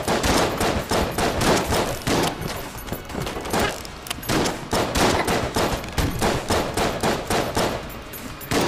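Rapid bursts of gunfire from the video game Enter the Gungeon, dense overlapping shots crackling continuously and loudly with no pauses.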